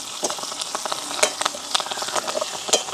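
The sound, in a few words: washed curry leaves added to frying pan, sizzling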